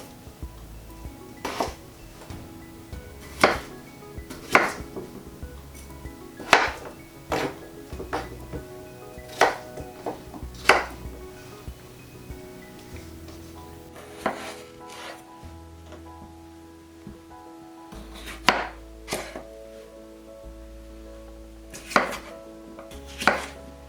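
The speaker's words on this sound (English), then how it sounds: "I'm just going to cut mine into about 2 centimetre chunks" Unpeeled potatoes being cut with a knife into roughly two-centimetre chunks on a chopping board: a series of close, distinct thuds and taps at an uneven pace, with short pauses between bursts.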